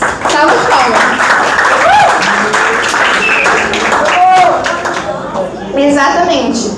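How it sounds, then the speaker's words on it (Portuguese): A round of applause during a church class, scattered clapping from a small group mixed with chatter and voices talking throughout. "Salva de palmas."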